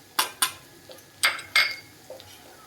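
A spoon scraping and clanking against a pan while pav bhaji masala and vegetables are stirred and sautéed, several distinct metallic strokes close up with a faint sizzle beneath.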